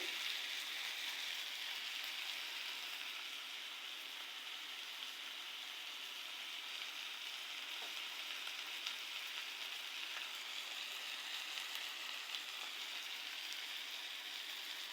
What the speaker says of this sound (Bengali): আমি আস্তে আস্তে করে মাছটা ভেজে নিচ্ছি